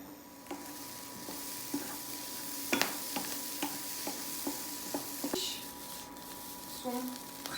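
Tomato paste and other ingredients for a one-pot orecchiette puttanesca fry over high heat, a soft steady sizzle broken by repeated stirring scrapes and taps against the pot.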